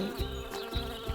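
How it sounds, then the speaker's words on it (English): A bee buzzing close by, a steady insect drone with faint rhythmic low thumps beneath it. "Here comes the bee."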